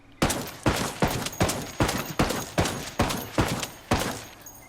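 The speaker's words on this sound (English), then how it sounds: "to the speed at which we can fire, starting with the M110." An M110 semi-automatic sniper rifle fires in Ghost Recon Wildlands: nine loud, sharp shots at a steady, unhurried pace, each cracking sharply and then ringing out briefly before the next, with no voices.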